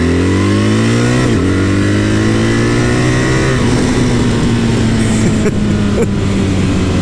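BMW R1300GS motorcycle accelerating hard, engine note climbing steeply then dropping abruptly at each quick-shifter upshift before rising again, loud and close under heavy wind rush.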